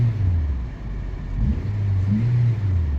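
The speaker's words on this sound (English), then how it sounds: "Let's rev it." A 1986 box Chevy on 26-inch wheels idling with a low rumble, then its engine revved twice in quick blips, close and fairly loud.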